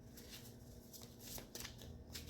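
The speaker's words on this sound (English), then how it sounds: "skip ahead if you don't want to see the shuffling." Tarot cards being shuffled by hand close up, with quick riffling, fluttering bursts and soft card slaps repeating in an uneven rhythm, fairly quiet and with no talking.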